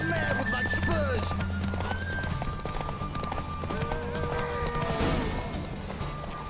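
A horse gallops through The Witcher 3 video game, its hooves clip-clopping in a steady rhythm and punctuated by several close, loud neighs and whinnies.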